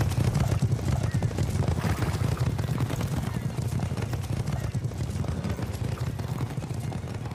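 Horses' hooves clip-clop in a steady, heavy rhythm in a film scene, with hoof beats rising out of a loud, dense mix under a voice that keeps talking throughout.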